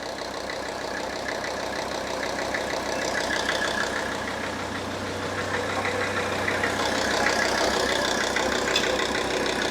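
A Mercedes-Benz S123 300TD diesel with 720,000 km on it idles steadily, giving a continuous low mechanical rumble with a faint knocking clatter and no talk over it.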